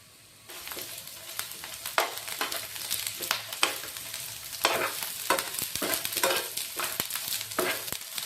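A sliced onion sizzles steadily in a spoonful of hot oil in a pan, the frying crackle continuous and close, broken by occasional stirring scrapes, with no voices.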